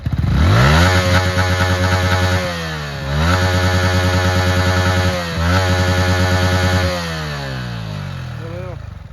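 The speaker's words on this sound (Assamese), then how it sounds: "বাইকখন RPM দুটামান দিম বুলি আহিছোঁ" A motorcycle engine revs up hard several times, rising and falling in pitch between loud bursts, close by and dominating the scene.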